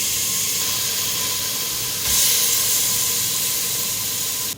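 A pressure cooker cooking beef releases a loud, continuous hiss of steam that holds steady and briefly intensifies midway before cutting off abruptly at the end.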